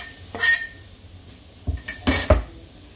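Chopped onion is tipped into a frying pan without oil, beside fatty fajita meat, making a few sharp metallic clanks and clatters, one brief knock and then a cluster of louder hits nearby.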